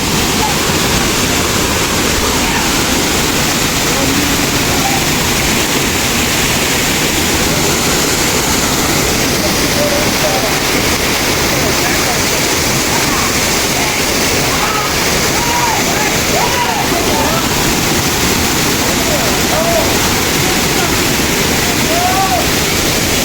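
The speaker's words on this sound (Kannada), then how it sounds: "ನೋಡ್ರಿ ಫಾಲ್ಸ್ ಹೆಂಗಿದೆ." Hanbal waterfall at Sakleshpur roars loud and close, a constant dense rush of falling water with no break, voices of people faintly mixed into the noise.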